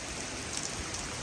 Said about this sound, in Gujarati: આજે વરસાદ ચાલુ થઈ ગયો ને થોડોક વધારે વરસાદ ધોધમાર આવે છે.